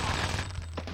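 Gunfire during a headshot in the PlayStation game 007: The World Is Not Enough, a brief burst of muffled shots over a loud, steady game soundtrack with a low hum.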